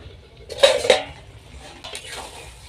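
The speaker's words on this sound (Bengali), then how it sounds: "10 মিনিট পর আমি ঢাকাটা খুলে নেব।" A lid lifted off a cooking pot of jackfruit seeds and Malabar spinach gives two quick metallic clanks close by, then a fainter rattle as it settles.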